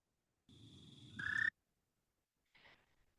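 An American toad gives a buzzing trill call, loud and close for about a second, then pauses before a shorter, fainter trill, with no talking.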